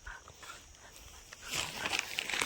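A dog at a rural home, soft panting and small whimpering sounds close by, growing louder and busier toward the end, with no talk.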